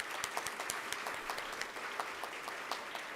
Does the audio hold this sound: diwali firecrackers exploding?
no